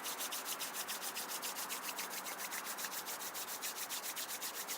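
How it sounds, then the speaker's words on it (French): Palms rubbing briskly together during a home qigong and yoga warm-up, a steady dry swishing with a fast regular back-and-forth rhythm, close and moderately loud, with no talking. "On frotte les mains."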